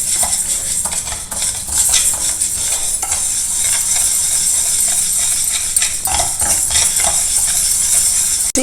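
Steady scraping and light rattling of a spoon stirring ingredients dry roasting in a pan over a low to medium flame, continuous and close, with no voices.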